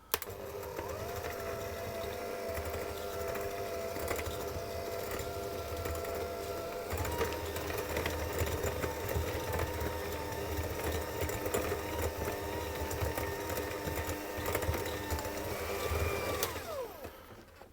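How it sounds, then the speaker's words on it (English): An electric hand mixer whirs continuously while creaming soft butter and sugar, a steady close motor drone with a slight pitch shift partway and the beaters rattling in the bowl, alone without speech. "I'm doing it with my hand mixer because that's the way I prefer."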